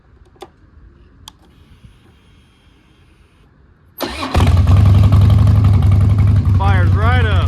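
A Harley-Davidson Dyna FXDWG motorcycle starting after a few quiet clicks: the V-twin cranks and catches abruptly, then settles into a loud, close, rumbling idle with a brief rev.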